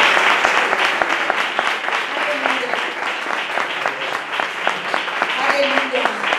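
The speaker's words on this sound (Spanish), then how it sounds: "Pues vamos a darle un aplauso al Señor." A church congregation breaks into dense, sustained applause, many hands clapping together loudly and evenly for several seconds with no break.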